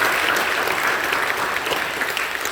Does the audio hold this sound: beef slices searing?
no